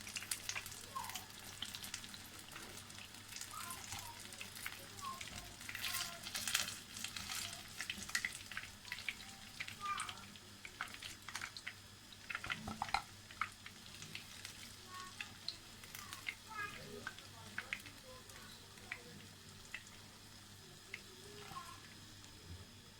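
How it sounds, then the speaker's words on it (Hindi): Fish frying in oil in a pan over a low flame, a steady soft sizzle with crackles and light stirring clatter throughout, close by, with no talking. "अब ये भी अच्छे से लो फ्लेम पे फ्राई हो जाएगी, फिर हम इसको डिश आउट कर लेंगे।"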